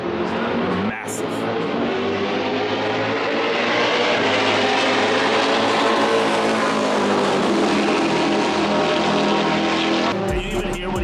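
Race cars roaring past at a race track with a massive incline, loud and close, a continuous dense engine roar that rises and holds for about ten seconds before cutting off abruptly.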